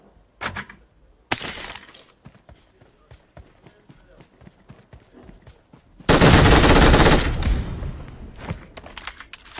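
Machine gun fire in the video game PUBG Mobile: rapid bursts of loud shots with thuds and impacts, building into a dense, roaring stretch of continuous gunfire near the end, with speech mixed in.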